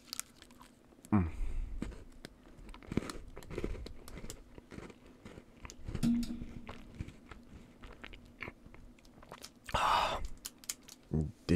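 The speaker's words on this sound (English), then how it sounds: "Did you listen to that? That's got a good crunch to it" A last bite of a chocolate bar chewed up close, scattered crunches and mouth sounds at irregular intervals with a sharp intake of breath and a louder burst near the end.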